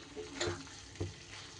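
Coconut-pumpkin ghonto stirred in a pan, a soft scrape of the spoon over a faint sizzle, with two brief stirring strokes close by.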